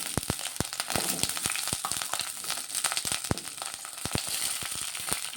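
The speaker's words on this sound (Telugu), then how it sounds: "ఈ పచ్చిమిర్చి అయితే ఫ్రై చేసుకోవాలి." Green chilies fry in hot oil with a steady, close sizzle broken by frequent sharp pops and crackles, loud and continuous with no talking.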